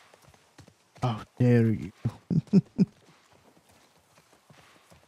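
Horse hooves clip-clop in The Last of Us Part 1 as a few hard, close, uneven strikes, following a man's short line of speech.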